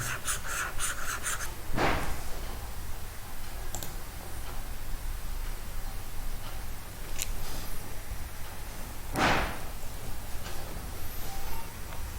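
Pen writing on paper during a maths lesson, soft continuous scratching with a few sharp ticks and two louder strokes, close and with no talk over it.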